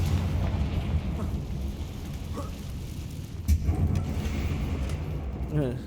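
A Confringo blast spell fires off in Hogwarts Legacy, a brief explosive burst standing out mid-clip over a constant rumbling game backdrop, with a person talking around it.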